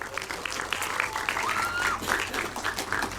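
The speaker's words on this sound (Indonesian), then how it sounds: "silahkan kita tepuk tangan dulu semuanya" Audience applause at an Indonesian community gathering, a steady wash of many hands clapping throughout at moderate loudness, with faint voices mixed in.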